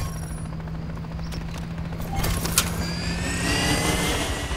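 Helicopter in the Call of Duty: Modern Warfare 3 video game, a steady loud rotor and engine drone that swells slightly as it nears, with faint crackles of battle sounds, no speech.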